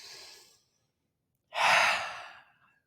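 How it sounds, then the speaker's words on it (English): A slow, guided breath: an audible exhale trails off into a second of silence, then a long, close, airy breath swells and fades. "But before you scroll to the next thing, take a breath with me"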